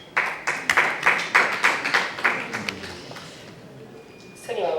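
Wedding guests clap together in a steady rhythm, about ten sharp claps in unison that gradually soften and stop, followed by a voice starting to speak.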